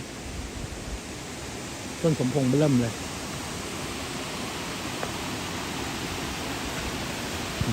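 Steady rushing water of Samrong Kiat waterfall in Sisaket, a continuous broadband wash heard at moderate distance, with someone speaking briefly over it partway through.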